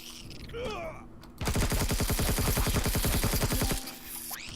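Rapid automatic gunfire in the Empyrion: Galactic Survival video game, a loud, steady burst of evenly spaced shots lasting a couple of seconds, with softer game sounds before and after.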